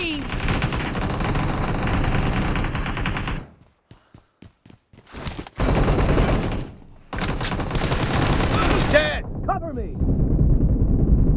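Automatic gunfire bursts in a team deathmatch video game, loud and dense, broken by a short gap of sparse single shots, with game voices over the shooting.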